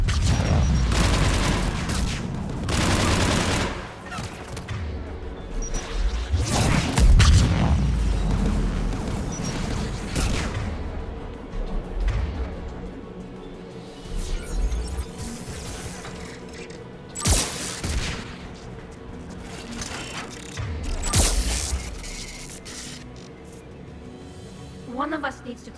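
Anti-aircraft guns fire in a Mass Effect 3 battle, with bursts of booming, crashing gunfire that come and go over a mechanical drone, alongside stretches of talking.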